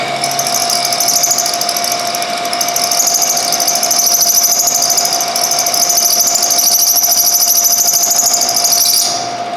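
A milling machine cuts a one-inch by half-inch slot into a metal part, producing a loud, steady high-pitched whine and squeal with a constant tonal hum that cuts off abruptly near the end.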